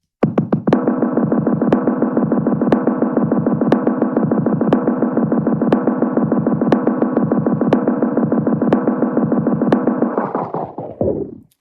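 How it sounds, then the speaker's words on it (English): Rapid, evenly pulsing synth notes play through the AudioThing Wires plugin with its echo effect switched on, a loud, steady repeating rhythm that runs for about ten seconds before trailing away. "Now, I had the echo on"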